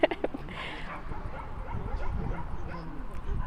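A few sharp dog barks and yips open, followed by ongoing rustling and low noise with talking mixed in.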